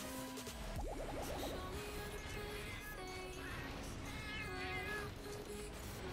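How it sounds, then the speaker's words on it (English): A cat meows close to the microphone, a rising wavering call followed by several more drawn-out meows over a busy background of game sounds and faint voices. "That was my cat."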